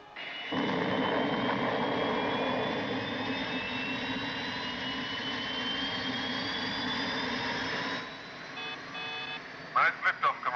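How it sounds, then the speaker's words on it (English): A spacecraft liftoff from a science-fiction TV series gives a loud sustained roar with rising whine for about eight seconds, then fades into beeping electronic tones. "Nice liftoff, Commander."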